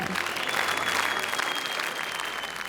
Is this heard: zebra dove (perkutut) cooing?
no